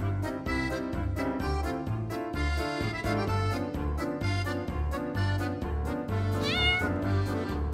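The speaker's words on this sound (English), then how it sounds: "You have a cat!" A cat meows repeatedly at close range, the short calls coming one after another against a dense musical background.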